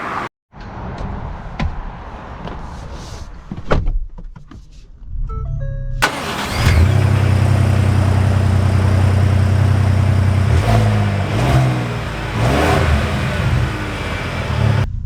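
A 2024 Ford Expedition Limited starts up with a brief crank and settles into a steady, loud idle, then revs and pulls away under sustained engine drone, heard from inside the cabin with small clicks and cabin noises before the start.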